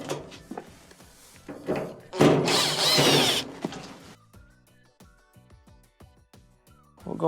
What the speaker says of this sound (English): Remove the 2 Phillips screws.